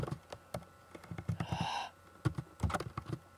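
Fingers type a search on a computer keyboard in close, quick bursts of key clicks, broken by a brief breathy sigh partway through.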